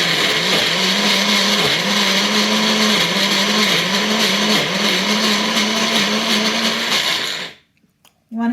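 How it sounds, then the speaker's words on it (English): A blender purées hummus, its motor whirring loud and close in a steady whine with slight dips in pitch as the mixture churns, then cutting off abruptly near the end into quiet. "pop it into the blender, and this is going to blend for a second"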